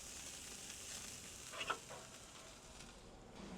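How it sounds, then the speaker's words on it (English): Octopus sizzles softly on a barbecue over direct coals, a faint steady crackling hiss with a couple of small pops and no voices. "We're going to cook it over direct coals."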